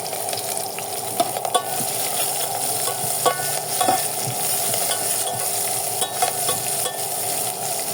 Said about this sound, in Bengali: পেঁয়াজ মরিচ একটু ভেজে নেব।